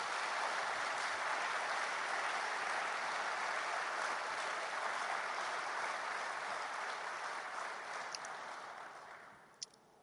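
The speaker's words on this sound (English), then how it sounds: "I'd like you all to join me and give him a very resounding applause." Resounding applause from a summit audience honoring President Pedro Perez, a broad, sustained wall of clapping from many hands that holds steady for several seconds, then gradually thins and fades toward the end with a few last isolated claps.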